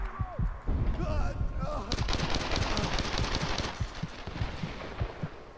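Rapid gunfire in the video game Tomb Raider, rattling bursts of dense shots that run for several seconds. A voice cuts in briefly near the start.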